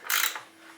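A hand ratchet turns counterclockwise to loosen a tight bolt on a Nitron Racing shock on a 2016 BMW S1000RR being built for the track. One short, loud, close burst of rapid clicking pawl, alone.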